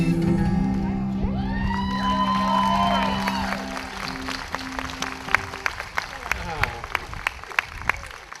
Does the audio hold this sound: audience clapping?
yes